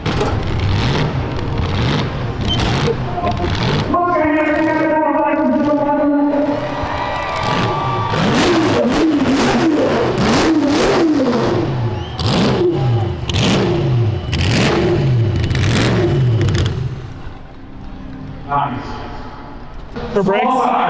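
A 1,000-horsepower burnout truck revs hard on a drag strip, with repeated rising and falling engine howls, loud and near, over crowd noise and people talking throughout.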